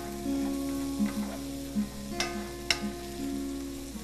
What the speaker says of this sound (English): We're going to saute the 1 remaining sweet potato for 2 minutes.